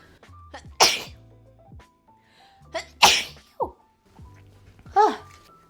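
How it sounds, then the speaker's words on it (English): Two sharp, explosive sneezes burst out close to the microphone, followed by a third softer one, with small vocal sounds in between. "Oh, I have to sneeze."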